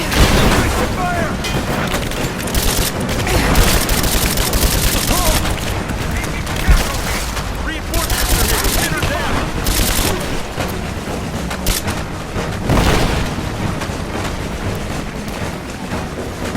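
Sustained gunfire fills a combat scene in Rise of the Tomb Raider on PS4, loud and continuous with overlapping shots and booms, while characters shout orders over the noise.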